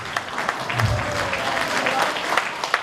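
Audience applause at a stage show in a hall, a steady wash of clapping hands that runs from start to finish at moderate loudness, with a few sharper individual claps standing out near the end.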